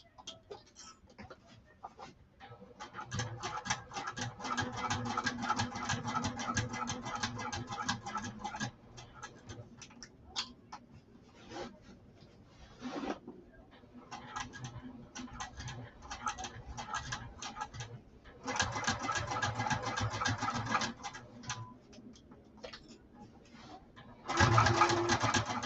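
A sewing machine stitches a saddlebag lining in bursts of rapid mechanical ticking, pausing between runs, with a quiet voice now and then.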